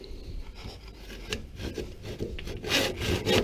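A hand saw cuts through wood pieces held against a stop to make supports for a small picnic-table bench: steady, rasping back-and-forth strokes, close and moderately loud, with no talking.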